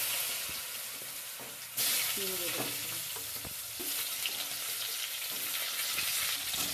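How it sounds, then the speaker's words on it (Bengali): Potato pieces frying in oil seasoned with panch phoron, a dried chilli and a bay leaf, a close steady sizzle with a sudden surge as they are stirred, followed by intermittent scraping and tossing. "আলু চিনগুলো নেড়ে চেড়ে ভালো করে ভেজে নিচ্ছি।"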